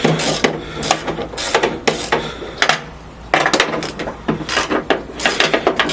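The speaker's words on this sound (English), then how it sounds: "I'm gonna start by removing the bolts that are holding the" A ratchet removes bolts from a Chevy S10 truck's door handle, making close, loud bursts of rapid clicking in repeated strokes with short pauses between them.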